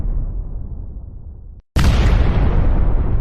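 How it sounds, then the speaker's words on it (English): A loud double explosion sound effect bursts in, a low rumbling blast cut short by a brief silence, then a second louder, brighter boom that rolls on afterward. "Double explosion."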